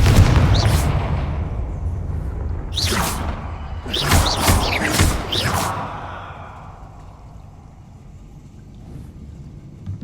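Confringo explosive spell blast in the video game Hogwarts Legacy: a heavy rumble followed by several sharp whooshing bursts in quick succession that die away into a low, steady game ambience.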